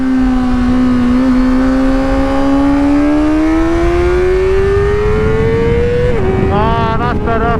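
A Honda CBR600RR engine in first gear climbs steadily in pitch through a hairpin, loud and close with a buzzing whine, then a brief dip and a few quick blips at the end, no speech.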